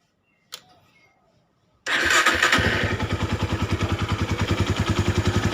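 A click, then a rough-running Honda Tiger motorcycle engine starts with a roar and settles into a loud, slightly uneven idle with a rapid chugging pulse, close by.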